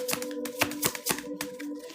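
Tarot cards being shuffled by hand, a quick run of crisp riffling flutters with no talking.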